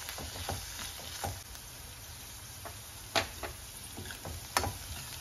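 Vegetables sauté in a pan for a creamy pink pasta, giving a soft, steady sizzle broken by occasional sharp clicks and scrapes of stirring, close and fairly quiet.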